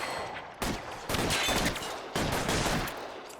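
Gunshots in the L.A. Noire video game ring out as three loud, close blasts with long echoing tails, spaced roughly a second apart.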